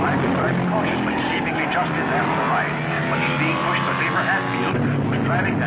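Racing cars on a 1955 racing course roar steadily with a continuous engine drone that never lets up, while someone narrates over the noise.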